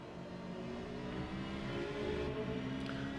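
A Toyota LMP1 race car pulls hard out of the chicane at Spa in Assetto Corsa with hybrid boost, its engine a steady rising whine and drone with layered harmonics, moderately loud and continuous.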